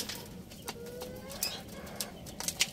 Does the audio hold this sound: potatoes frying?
no